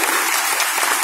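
Audience applause at a 79th birthday celebration honoring a Padma Shri award recipient, with a dense, steady wash of clapping from a crowd that fills the whole moment without talk.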